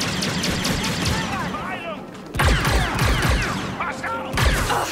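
Rapid bursts of blaster-style gunfire and impacts crackle in a firefight in the video game Star Wars Outlaws, loud and dense, with someone talking over the action.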